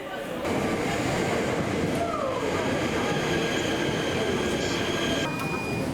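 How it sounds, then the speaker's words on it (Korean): An ITX-Maeum train rumbles loudly into a station in Korea, with steady rolling noise and a brief high squeal from the wheels. "저쪽에 열차가 지금 들어오고 있네요."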